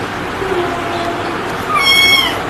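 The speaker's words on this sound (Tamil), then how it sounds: "2வது பூனைக்குட்டி" A second small kitten lets out a short, bright meow near the end, up close, after a stretch of quiet room hiss.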